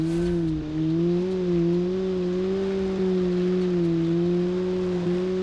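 A 1977 communist car in a racing video game, its engine droning loud and close with a steady, slightly wavering hum that holds under power for several seconds, with no talking.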